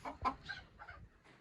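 A rooster on a small poultry farm gives a short, faint call of a few clucking syllables, heard alone without talk.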